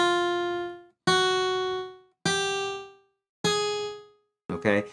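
Four sustained electric guitar notes, each struck with a downstroke and ringing cleanly for about a second before the next, played smoothly in a steady rhythm, followed by a brief scratchier pick attack at the end.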